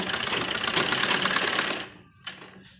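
A sewing machine runs a fast, continuous stitch through doubled fabric and lining for a heavy-work suit, loud and close, then stops abruptly, leaving a brief clack and quiet.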